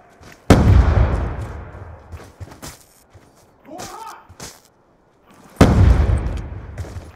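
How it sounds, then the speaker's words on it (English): Grenade and explosion blasts in the video game Black Ops 2, two loud booming detonations with rumbling tails, separated by brief thuds and a short burst of muffled game voice in between. "Throwing grenade!"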